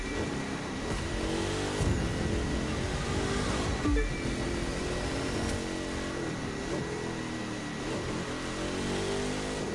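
Monster truck driving in The Crew 2, its engine a steady rumbling drone with a continuous wash of surf-like noise, holding loud and even throughout with no voices.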